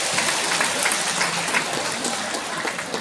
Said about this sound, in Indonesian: Tepuk tangan untuk lintah.